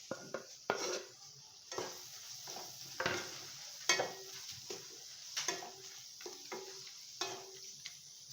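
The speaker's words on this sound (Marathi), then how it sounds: "ते मसाले जळायला नको म्हणून याच्यातच आपण आता टमाटर घालून घेणार आहे" Tomatoes frying in a spice tempering for Khandeshi-style Rajwadi khichdi, a quiet sizzle with intermittent ladle scrapes and clinks against the pan, close and fairly faint.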